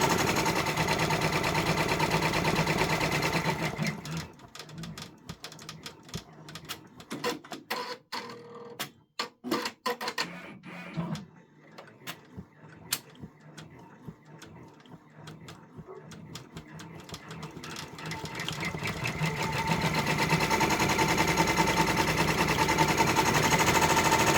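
A Brother embroidery machine stitches a freestanding gingerbread village bridge, a steady rapid mechanical chatter that drops into sparser, irregular clicking for a stretch before the fast, continuous whir returns.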